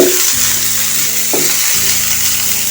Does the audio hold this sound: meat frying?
yes